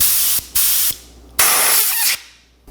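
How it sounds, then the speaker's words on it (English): An airbrush with its nozzle removed sprays paint in four short, loud hissing bursts separated by brief gaps, close up. "Take the nozzle off my airbrush."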